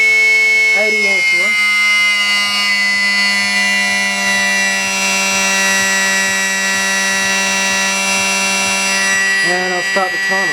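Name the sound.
electric motor with ESC running at full throttle under load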